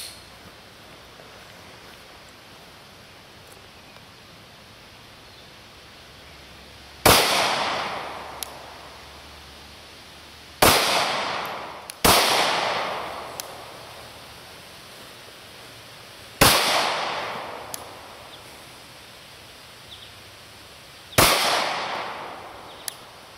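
Five sharp pistol shots from a Glock 36, fired at a target on an outdoor range, spaced a few seconds apart with no one talking. Each report is loud and close with a brief echoing tail.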